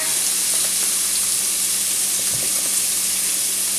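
Shrimp sizzle steadily in a hot pan, a loud continuous frying hiss with a few faint stirring clicks near the middle.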